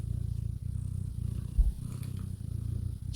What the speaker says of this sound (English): She wants to purr for you.